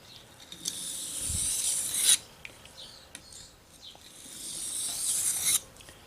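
A fillet knife blade being sharpened on a stone at a 20-degree angle, two long rasping strokes close up, each a steady scraping rub lasting about two seconds, separated by quiet pauses.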